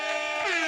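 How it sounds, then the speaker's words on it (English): A brief, loud blast of an air horn sound effect, a bright brassy tone sustained for under a second. "Air horns."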